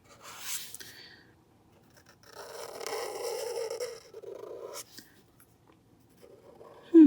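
A Tombow chisel nib marker scratches across paper while coloring, in close, dry rubbing strokes that come in a few separate bursts with quiet pauses between them.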